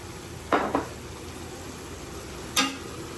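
Beef caldereta in a cooking pot is stirred, giving a few brief clanks of a utensil against the pot, two close together then one more, over a soft steady simmer.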